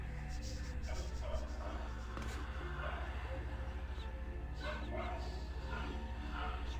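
A dog in Vampire the Masquerade Bloodlines gives a run of yips and barks amid busy game ambience, with a voice talking over part of it.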